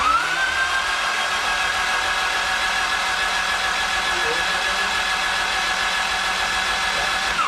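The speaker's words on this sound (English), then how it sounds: "Go ahead and start cranking." A turbocharged Honda D16 engine in an EF hatch cranks over on its first start, a steady loud mechanical drone with a faint whine running unbroken throughout, no voices.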